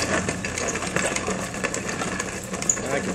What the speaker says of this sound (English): Take some of the pre-crushed stuff and mill it down a few pieces at a time.